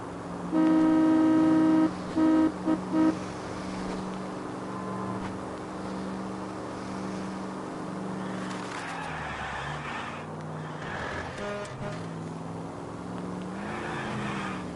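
A car is driven in the video game L.A. Noire: loud horn blasts open the scene, followed by a continuous engine drone with tire squeals and skids that rise and fall as it swerves.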